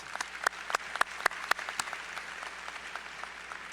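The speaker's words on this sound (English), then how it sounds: "Let's give all of our generous sponsors and partners a round of applause." At a Martin Luther King Jr. celebration hosted by USC Aiken and Aiken Technical College, an audience applauds sponsors and partners with light, scattered clapping that opens with a few sharp, close claps and then thins into softer clapping from a small crowd.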